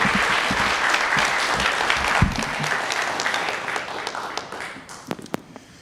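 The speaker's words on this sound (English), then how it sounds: "if we could just offer them a round of applause and thank them as well" Sustained round of applause for retirees at a school committee meeting, a dense steady clapping crowd that thins out toward the end with a few scattered claps.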